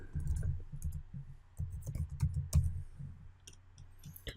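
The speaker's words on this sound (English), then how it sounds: "I'll just type in some random stuff here." Light clicks of someone typing answers on a computer keyboard, scattered irregular keystrokes close by and fairly quiet, with short pauses between bursts.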